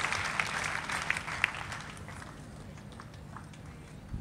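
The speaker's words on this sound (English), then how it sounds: "Let's clap our hands and thank God for." A church congregation claps hands during a thanksgiving prayer gathering in Ankole, Uganda, a dense broadband patter that is strongest early on and thins toward the end, with faint murmuring underneath.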